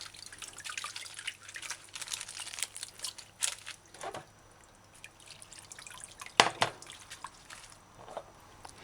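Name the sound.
excess water draining from vegetables in a colander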